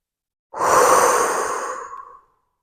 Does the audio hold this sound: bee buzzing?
no